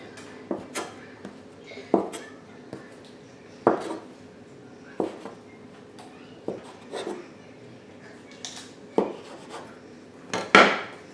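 Bread roll dough for copycat Hawaiian rolls being cut into pieces with a floured tool, a series of soft, close knocks and scrapes on a work surface at an irregular pace, with no talking.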